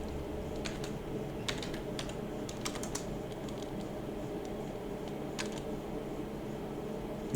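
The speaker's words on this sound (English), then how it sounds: "okay, let me just type this" Steady typing on a computer keyboard while setting up inter-VLAN routing in Cisco Packet Tracer, with scattered light key clicks and short bursts over a constant low hum, close and quiet.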